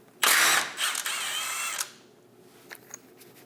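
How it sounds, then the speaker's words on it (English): Power tool spinning a 15mm socket to remove the sway bar link nut on a Chevrolet Express 2500 front suspension, one loud whirring burst of about a second and a half that stops abruptly, followed by faint clicks. "Using a 15mm socket, remove the nut for the sway bar link."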